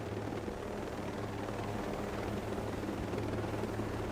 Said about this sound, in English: I hear more drones over here